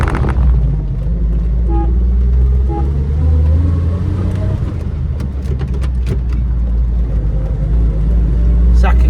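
A 1946 Chevrolet Fleetmaster engine drives along and shifts gears, with a close, loud rumble of the engine. The revs rise and fall between changes, and a voice is faintly present under the engine noise.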